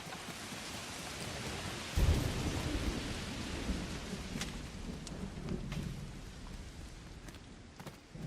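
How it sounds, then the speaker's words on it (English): Rain and thunder during a storm in the video game LEGO Fortnite Odyssey: continuous rainfall with a thunder crack around two seconds in that rolls into a long low rumble, plus occasional faint clicks. "Oh, it's raining."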